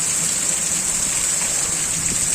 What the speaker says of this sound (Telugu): చాలా భయంకరమైన వర్షం అండి